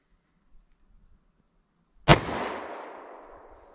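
A single sharp gunshot from a Glock 41 pistol with a 5.3-inch barrel firing .45 ACP +P 200-grain rounds, loud and close, with a trailing echo after a quiet lead-in.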